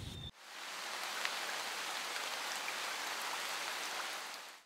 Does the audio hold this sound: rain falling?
yes